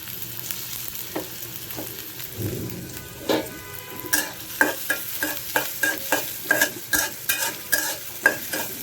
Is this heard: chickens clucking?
no